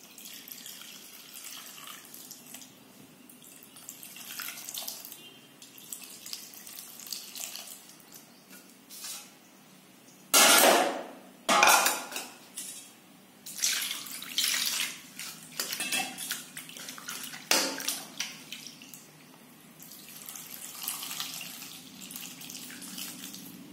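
Water poured and swirled in a bowl while tamarind is soaked for a vegetable kootu, with clinks of a pot or utensil, fairly close, rising in bursts over steady background with no talk.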